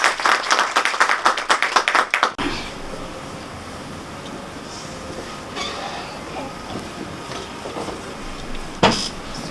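An audience at a Khodiyar katha, a devotional talk, breaks into a brisk burst of dense clapping for about two seconds, then it cuts off to a quiet hall with faint rustles and a brief knock near the end.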